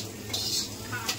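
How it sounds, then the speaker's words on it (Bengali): Chow mein with chicken, vegetables and egg is stir-fried in a pan in a home kitchen, a close hiss of frying with a brief scrape of the utensil against the pan. "দীপু রান্না করতে ব্যস্ত, চাউমিন করছে।"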